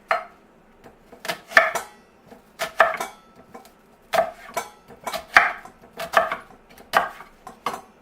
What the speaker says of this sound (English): Quick rough chop of the onion